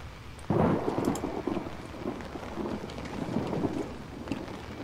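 Rain pours steadily outside in the horror video game Outlast, with a sharp, loud thunder crack early on followed by rumbling and continuous downpour.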